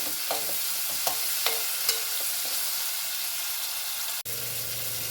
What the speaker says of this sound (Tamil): இப்போ வெங்காயம் வதங்கிறதுக்காக இதுலேயுமே சேர்த்துக்கலாம். இது ஒரு 5 நிமிஷம் நல்லா நம்ம வதக்கிடுவோம்.